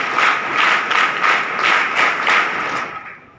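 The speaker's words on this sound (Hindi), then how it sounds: "बड़ी ताली से बड़ी ताली करो।" An audience at an Indian Constitution Day school event applauds loudly in rhythmic waves of clapping that pulse evenly, then fade out at the end.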